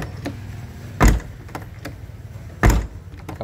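Car sliding door on an older vehicle with solid, rust-free rear doors, slid and shut with two firm, loud thuds about a second and a half apart, plus light clicks and rattles between them.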